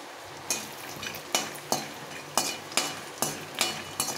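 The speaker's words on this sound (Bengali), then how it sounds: "এই বাদামটাকে একটু ভেজে নেব" Peanuts stir-fried in oil in a wok, a steady sizzle broken by about nine sharp scraping stirs at a regular pace, close and fairly loud with no talking.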